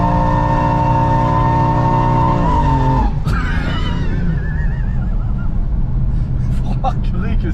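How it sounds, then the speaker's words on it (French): A car's wheels spinning and slipping under throttle, with an engine drone that gives way to squealing, scrabbling tire noise loud and close. "si vous appuyez un peu sur la pédale, elle patine quand même"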